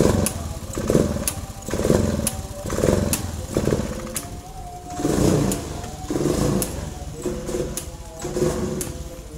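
A Honda Vario fuel-injected scooter, running without its air filter, idles and revs repeatedly in bursts, its engine note rising and falling close by with no talk over it.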